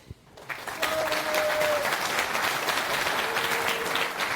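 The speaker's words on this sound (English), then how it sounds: "Round of applause to Denki." Conference audience applauding a speaker at a FOSDEM 2024 software talk, a steady wash of many hands clapping that swells quickly after a brief pause and holds loud and even to the end.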